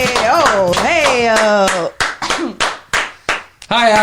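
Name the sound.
loud hand clapping by a podcast guest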